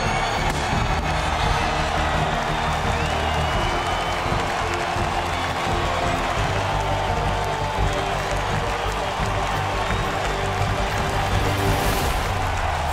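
A packed stadium crowd roars at a Rutgers college football night game in New Jersey, a sustained loud wash of cheering and clapping with no breaks across the whole stretch.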